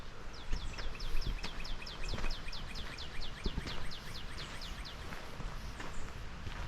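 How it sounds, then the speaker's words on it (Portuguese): Small birds sing near a waterfall in a hidden forest spot in Brazil: a repeated series of quick chirping notes over a steady background rush, with occasional footsteps or knocks close by and no speech. "sintam o barulho dos passarinhos, a natureza"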